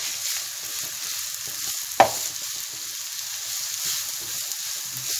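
Two onions frying in a big spoonful of ghee, a steady hissing sizzle throughout with one sharp clack from a utensil partway through, close and continuous.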